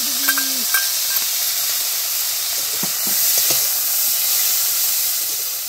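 Prawns frying in a pan outdoors by a river, a steady, close sizzle and hiss with faint clinks and scrapes of stirring throughout.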